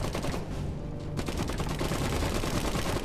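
Machine gun fire in the strategy video game Iron Harvest, a loud, dense continuous burst of rapid gunfire and battle noise that fills the whole stretch without pause.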